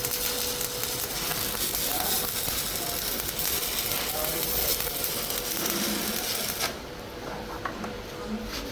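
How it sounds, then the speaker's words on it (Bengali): Stick electrode welding on a pipe in the 6G position, laying a filling pass, gives a steady, close crackling sizzle that drops in level near the end. "তো এবার যে ওয়েল্ডিং করছি আমরা"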